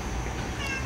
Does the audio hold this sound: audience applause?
no